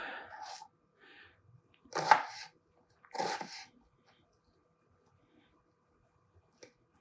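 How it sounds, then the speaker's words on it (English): A knife cuts onion halves on a board for a Philly cheesesteak: three crisp, separate chops spaced about a second apart, then a faint tap near the end, close and quiet between strokes. "just cut your onions up"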